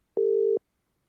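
A single steady telephone tone on a radio phone-in line, lasting under half a second, loud and clean with nothing else around it.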